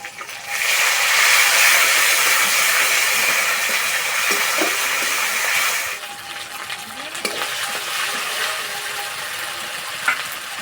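Ginger-garlic paste hitting hot oil over fried onions gives a loud hissing sizzle that drops off after about six seconds into a quieter crackle with a few clinks from stirring.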